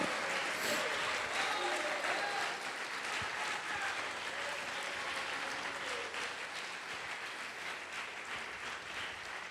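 A church congregation applauding, dense sustained clapping from a large crowd that holds steady and fades slightly toward the end, with faint voices underneath.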